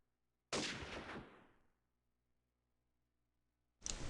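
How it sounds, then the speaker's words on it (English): Gunfire in the video game Call of Duty 4, two sharp bursts of shots with a silent gap between them, loud and close with a short decaying tail after the first. "He's trying to spam a few shots to the A building"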